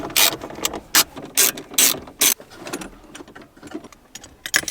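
A ratchet backs out 10mm bolts from the front camera mount of a third-generation Toyota Tacoma. It gives several close, loud bursts of rapid clicking, separated by short pauses, with quieter clicks after them.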